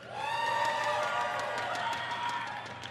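BlizzCon convention crowd cheering for Mass Resurrection, a broad roar of many voices with whoops and some clapping, sustained for a few seconds in a large hall.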